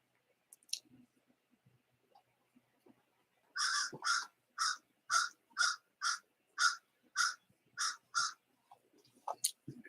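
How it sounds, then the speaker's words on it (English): A crow caws about ten times in a steady, evenly spaced run, fairly loud against a quiet background with faint clicks before and after. "That crow is slightly being annoying though."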